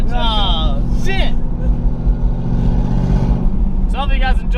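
A heavily modified 800hp turbocharged Ford Mustang rumbles with a loud, steady exhaust drone throughout, while voices talk over it at the start and end.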